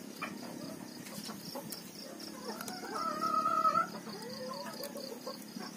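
Chickens cluck and call in a busy coop while eating corn, one rising crow-like call standing out midway over steady background chatter.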